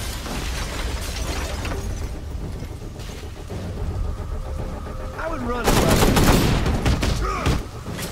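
Red Hood's barrage ability in Gotham Knights: a dense volley of rapid gunfire shots that erupts loudly in the last few seconds, over a backdrop of busy game noise and ambience.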